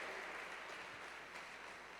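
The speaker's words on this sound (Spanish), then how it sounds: "Cántale un aplauso a nuestro Salvador" A church congregation claps together, a steady wash of applause fairly faint and continuous throughout, with no distinct voices on top.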